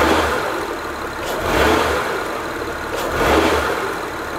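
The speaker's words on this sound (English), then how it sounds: "My foot is on the brake. I'm gonna give it gas." A Honda/Acura V6 engine is revved in gear with the brake held firmly, swelling twice in deep, rising surges before settling back toward idle, loud and close with no talking.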